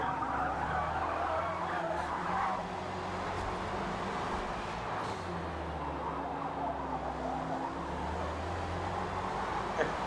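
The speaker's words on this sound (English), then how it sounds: "Klanglich ja schon eine Luftpumpe, der Ferrari." A Ferrari race car's engine drones steadily in Forza Motorsport during a 24-hour Nürburgring race, holding a continuous mid-level hum with shifting tone and faint tire noise, with talk faintly beneath it.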